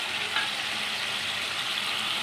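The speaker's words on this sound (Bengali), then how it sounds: "এবারে মাছগুলো আমি এখানে দিয়ে দিলাম।" Small mourola fish dropped into a pan of simmering tomato gravy, giving a steady, even hiss and sizzle with no pauses.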